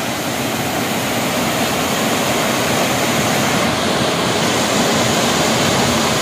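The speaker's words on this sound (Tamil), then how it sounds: "இது ஒரு அழகான அருவி, குட்டி அருவி தான்" Steady, dense rushing of a small twin-stream waterfall fills the scene without pause, a constant broadband roar heard up close.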